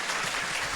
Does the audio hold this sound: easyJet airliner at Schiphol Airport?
no